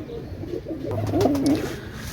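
Soft, low pigeon cooing, a short rolling coo rising and falling over faint background noise.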